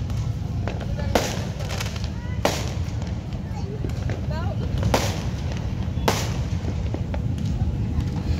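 Several sharp firecracker bangs burst at irregular intervals over a steady hiss of falling rain on New Year's Eve at Bunderan PIK.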